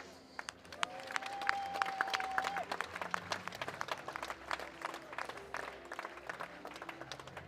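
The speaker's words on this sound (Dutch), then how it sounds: "dat verdient wel een applaus" An audience at a Dutch mare championship equestrian event applauds the organisers, a long, moderately distant wash of many hands clapping with a brief tonal whistle-like sound early on.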